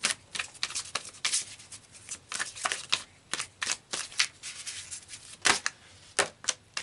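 Tarot cards are shuffled close by in a steady run of crisp riffling slaps, repeating brisk bursts with no talk over them.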